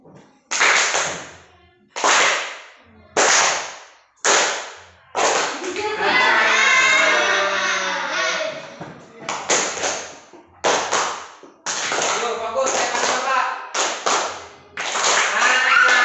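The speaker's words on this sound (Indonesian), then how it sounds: "Ketika ada instruksi tangannya jatuh di bagian cowok, tepuk tangan 1 kali." Sixth-grade students in a classroom game clap hands in repeated sharp bursts, short groups of one or two claps alternating with a longer stretch of mixed claps and voices, loud and close.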